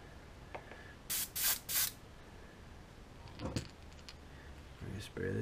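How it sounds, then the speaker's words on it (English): Several loud hissing bursts from a paint sprayer applying paint to a crankbait fishing lure, a quick run of three close together, then more spaced sprays with faint handling noises between. "We're gonna get this in the sprayer."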